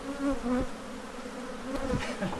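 Killer bees swarm around a hive inside a shed, making a close, continuous buzzing drone that rises and dips as individual insects fly past.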